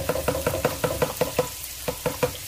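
Garlic frying in a pan for igado, heard as a quick, steady run of sharp knocks over a soft sizzle, close and moderately loud.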